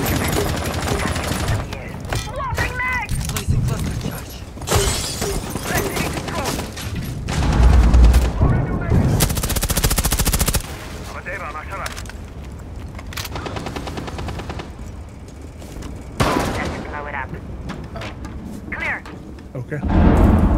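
Rainbow Six Siege gameplay carries repeated bursts of automatic gunfire and loud booms, with quieter gaps between the volleys. Players talk over the shooting.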